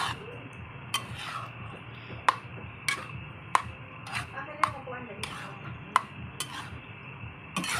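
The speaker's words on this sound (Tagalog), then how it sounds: "Yung ating sweet style spaghetti sauce. Ayan, haluin lang po natin yan." A spoon stirring sweet-style spaghetti sauce in a pot, heard as sharp, irregular metallic clinks and taps against the pot over a low background hum.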